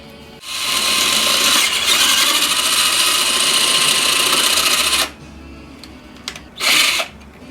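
A power drill with a larger bit bores a bolt hole for the rear shock mount on a Mazda RX3, whining loudly and steadily for about five seconds, then a short quieter rev and one final brief burst.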